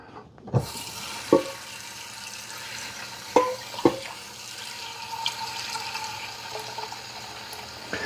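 Tap water runs steadily into a pot, a continuous rushing flow at close range, punctuated by several sharp knocks and clunks of cookware near the start, with no one speaking.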